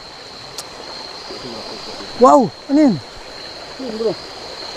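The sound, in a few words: flowing water, stream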